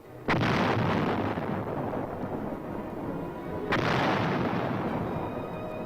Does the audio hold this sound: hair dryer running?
no